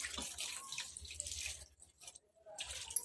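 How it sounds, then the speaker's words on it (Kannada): Water poured into a cooking pot for greens sambar, a short splashing pour in a few bursts with brief pauses, close and fairly quiet in a home kitchen. "ಸ್ವಲ್ಪ ನೀರು ಹಾಕ್ಕೊತಾ ಇದ್ದೀನಿ."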